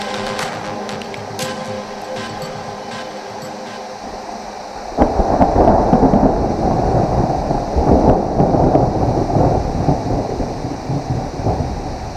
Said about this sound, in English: It did rain after all.